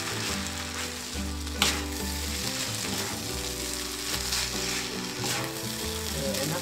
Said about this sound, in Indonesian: Kita aduk hingga rata.